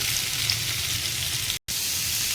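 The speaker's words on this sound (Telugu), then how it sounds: "నూనెలో వేయించుకుంటున్నాను ఎండుమిరపకాయలు. ఇది ఫ్రెండ్స్ టమోటాలు ఈ నూనెలో మగ్గ పెట్టుకోవాలి." Dried red chillies and tomatoes fry in hot oil, giving a loud, close, continuous sizzle with a brief dropout partway through.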